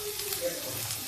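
Onions sizzle in a hot pan for a bitter gourd curry, a brief, steady frying hiss heard up close without a break.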